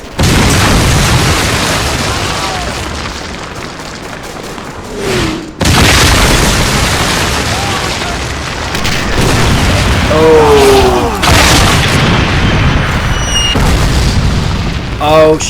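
A massive Katyusha rocket barrage pounds down in Men of War, heavy rolling explosions layered into a continuous loud roar with brief gaps, a voice talking over parts of it.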